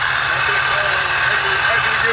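A procharged LS engine in a Cutlass Supreme idles with a steady low rumble and a constant high supercharger whine riding on top, close and loud, unbroken for the whole moment.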